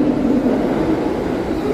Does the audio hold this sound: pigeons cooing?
no